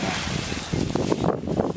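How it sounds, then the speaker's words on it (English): Gusty wind buffeting a microphone outdoors at sunset while geocaching, a rough, rumbling roar that rises and falls in uneven bursts. "It's kinda windy, I apologize."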